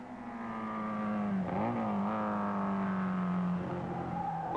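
Several 1962 sports racing cars roar past at Mosport with a loud, sustained engine drone. The pitch shifts as the cars change gear and pass by, and no one speaks.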